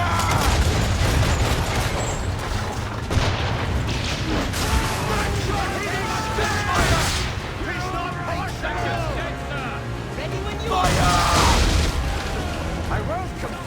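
Heavy ship cannons boom in an Assassin's Creed 3 naval battle, firing in repeated loud blasts over a steady rumble of wind and sea, with voices shouting orders throughout.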